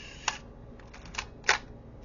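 A Nikon F2 film camera shutter fires on its self-timer, giving a few sharp mechanical clicks and a louder final snap, close and crisp over a quiet hum.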